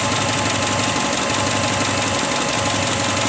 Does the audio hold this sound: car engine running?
yes